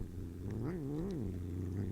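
Pet cat Mittens makes a low, continuous rumbling purr close up, with a brief rising and falling vocal waver partway through, steady and fairly quiet throughout.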